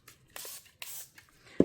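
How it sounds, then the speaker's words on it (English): Alcohol is sprayed into a resin mold in two short hissing bursts, close and quiet, followed by a faint light knock. "spray some alcohol in the mold"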